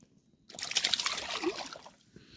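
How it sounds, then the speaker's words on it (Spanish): A freshly caught small carp dropped back into the water from a float-fishing spot, making a short burst of close splashing and trickling that fades after about two seconds. "Se va al agua."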